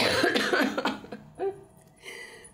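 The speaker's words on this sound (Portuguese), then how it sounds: "Só vira pro lado e tosse." A person talks, then turns aside and gives one short, sharp cough. Quieter breath and speech sounds follow close by.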